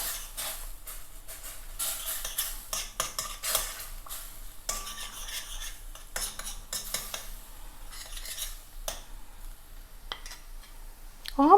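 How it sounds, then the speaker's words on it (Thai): Pounded shallot, peppercorns and shrimp paste are stir-fried in thick coconut cream in a pan for a coconut soup with lotus stems and steamed mackerel: repeated close spatula scrapes over a faint sizzle, with no voices. "แล้วก็เอามาผัดกับหัวกะทิซะก่อน"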